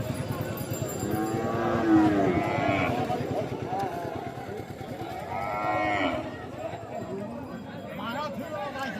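Cattle at a busy livestock market in Bangladesh moo in several long, drawn-out calls that rise over a constant crowd murmur. Men chat and bargain close by throughout.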